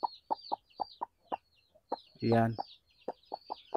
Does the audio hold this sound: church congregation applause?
no